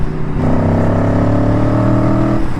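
An Aprilia Tuono V4 motorcycle engine rumbles loud and close in a steady, deep, throbbing drone that rises slightly in pitch for a couple of seconds and then settles, with no talk over it.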